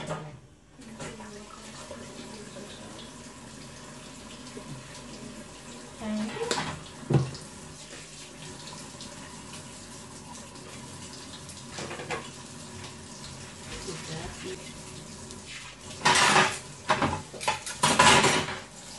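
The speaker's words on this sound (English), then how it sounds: "Wash the dishes for me. Wash this spatula." Dishes and a spatula being washed under a running kitchen tap, with a steady low water rush and scattered clinks and clatters, louder bursts of splashing and knocking near the end.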